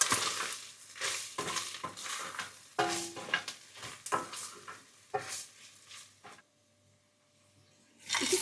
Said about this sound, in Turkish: Koyalım ve tekrar karıştıralım.